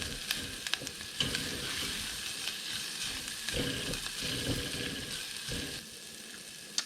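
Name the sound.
Swiss chard sweating in pan with salt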